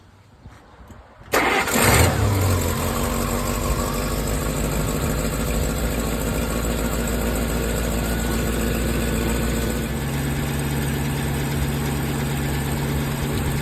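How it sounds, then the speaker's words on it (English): A 1952 Buick 263 inline straight-eight flathead engine cranks briefly, catches with a loud burst and settles into a steady, close idle with a low rumble. The idle shifts slightly partway through. "Let's start it up and see how it sounds."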